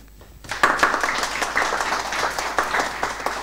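Crowd applause for a speaker at a Folkemødet 2021 panel, starting suddenly after a brief quiet moment and then holding as steady, dense clapping at full strength.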